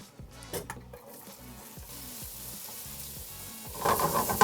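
Peppers fry in leftover breakfast-casserole grease with a little avocado oil, giving a steady close sizzle under regular scraping stir strokes that swells louder toward the end.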